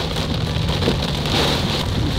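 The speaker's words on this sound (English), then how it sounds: "Rain is coming down now." Heavy rain pouring down in a dense, steady hiss, drumming on surfaces nearby, loud and continuous throughout.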